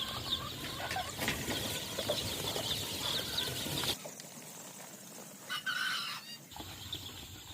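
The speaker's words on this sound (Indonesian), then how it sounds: "anak ayam di kandang brooding, 2 kandang dan kandang ini serta kandang panggung di sana" Young Joper chicks, only two or three days old, cheep and cluck in a brooding pen, a busy chorus of small peeps that thins out and continues in scattered calls.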